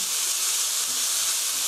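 Garlic, onion and paprika stir-frying in a pan for Korean spicy seasoned chicken, a steady close sizzling hiss throughout with no pauses.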